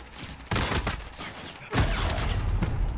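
Rapid gunfire bursts in Call of Duty Warzone, two loud volleys, the first starting about half a second in and a heavier one near the two-second mark, under a continuous rattle.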